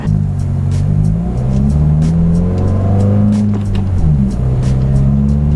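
A car engine revs steadily, its pitch climbing and dropping as it shifts through gears, loud and close throughout.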